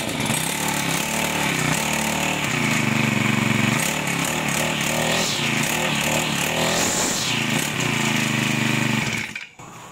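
Petrol grass cutter, hard to start after sitting unused for a while, running loud and close with a rough, buzzing two-stroke drone that surges in pitch, then cuts out abruptly at the end.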